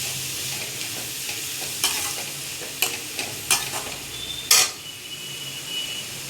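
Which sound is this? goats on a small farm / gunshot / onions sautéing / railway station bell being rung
onions sautéing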